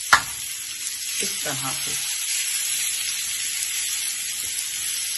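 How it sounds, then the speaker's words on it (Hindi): Chickpeas for dhaba-style chana masala sizzle steadily as they fry and get stirred in a pan, with brief scraping strokes early on; someone speaks briefly near the start. "छोले मैं फ्राई करती जाऊंगी"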